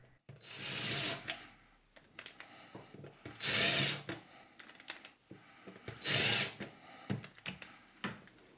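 Power drill driving screws into wood for a modern house-number sign, three bursts of whirring each a second or so long, separated by quieter handling clicks and knocks, close by with no talk.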